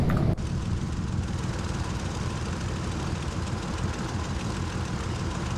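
Steady low aircraft engine drone in X-Plane 11, a Carenado Piper, with a constant rumble, idling evenly throughout after a brief click at the start; no voices.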